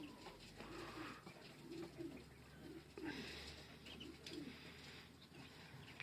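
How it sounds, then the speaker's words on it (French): Homing pigeons coo in a newly built pigeon loft, soft repeated throaty calls close by over a low background hum, with a few faint chirps and no speech. "C'est des pigeons qui resteront toujours dehors."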